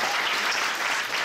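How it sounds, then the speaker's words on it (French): Sustained applause from a comedy show audience for a comedian, a dense steady roar of many hands clapping at even loudness throughout, with no voices over it. "on peut encore l'applaudir"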